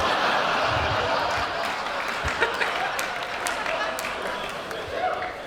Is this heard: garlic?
no